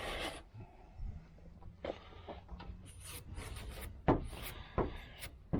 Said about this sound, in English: then we're going to use the file to go over them